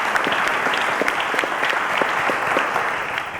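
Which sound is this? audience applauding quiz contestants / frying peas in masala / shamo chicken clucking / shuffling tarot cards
audience applauding quiz contestants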